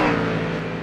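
A Ford Mustang race car engine drones on track during a Mustang Challenge round, a steady, loud mechanical roar that eases slightly toward the end of the short burst.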